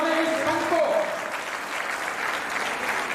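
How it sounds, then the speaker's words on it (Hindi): An audience at a religious welcome ceremony in Sikar applauds to greet volunteers, a loud, dense burst of clapping with a speaker's amplified voice over the start before the applause carries on alone. "इसे कर एक बार 2 लाख तालियों से स्वागत करें उन कार्यकर्ताओं का"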